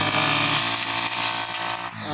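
Grass cutter clearing dry grass in a rice field, its motor running as a steady, loud, continuous whine that stays close throughout with no talk.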